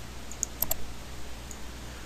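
A few sharp, faint computer mouse clicks on a PC while setting up a Minecraft mod, a quick pair followed by a single later click in a quiet room.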